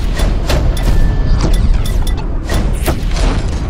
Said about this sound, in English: Opening fire on cruiser.